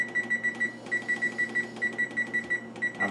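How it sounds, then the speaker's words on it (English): An electronic oven timer on a stove beeps in quick repeated pairs of short, clear tones, steady and close, over a faint hum. "And we got a timer here."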